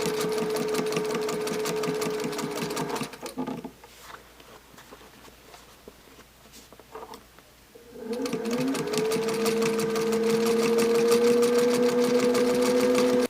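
An antique straight-stitch sewing machine stitches quilt binding with a steady, fast whirring hum that stops briefly midway and then resumes at full speed, close and clear, with no talking.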